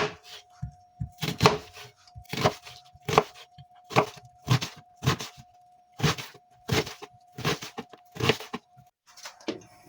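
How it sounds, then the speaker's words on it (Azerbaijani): Onion being chopped with a knife on a board, a rhythmic series of crisp, close chopping bursts in quick clusters, about ten groups spread evenly, with a faint steady hum underneath and no talk. "İndi soğanı doğramaqla başlayın."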